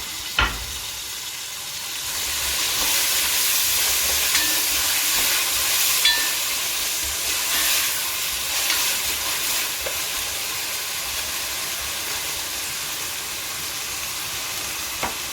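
Tomatoes and green chillies sauté in a pan for a beef biryani, giving a steady close sizzle and hiss, with a few scrapes of stirring, and no voices over it.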